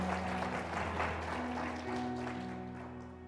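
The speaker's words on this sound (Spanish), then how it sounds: "¿Cuántos aplauden el nombre del Señor?" A church congregation applauds in a steady, fairly quiet wash of clapping, with sustained organ or keyboard tones droning underneath and no talk.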